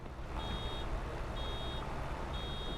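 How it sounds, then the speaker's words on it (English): Warning beep in the Farming Simulator 22 game, three evenly spaced thin tones repeating over a steady low engine rumble, fairly quiet in the mix. "It's beeping now. It's not a very loud beep though."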